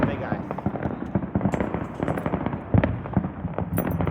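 Big Fourth of July fireworks crackle and pop in a rapid, uneven barrage of sharp bursts, loud and close, with people talking over the noise.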